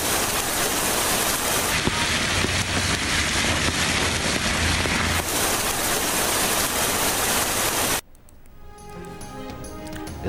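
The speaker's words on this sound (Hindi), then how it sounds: "इस्लामाबाद में गरज चमक के साथ सर्दी की पहली बारिश, बादल जमकर बरसे।" Steady heavy rain pours during the season's first winter storm in Islamabad, a dense continuous wash of noise that cuts off abruptly near the end, giving way to quieter sounds; no clear thunder stands out.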